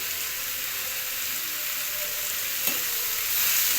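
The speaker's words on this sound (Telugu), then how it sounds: "మెంతులు, జీలకర్ర వేసి ఫ్రై చేసుకోవాలి." Fenugreek and cumin seeds fry in a pan with coriander seeds, a close, steady hiss of sizzling oil with one brief scrape of stirring and no talk.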